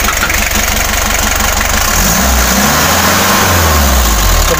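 Original engine of a Daihatsu V82RH six-wheel truck revving loudly up close, a steady rapid idle pulse giving way to rising and falling revs, with no talk over it.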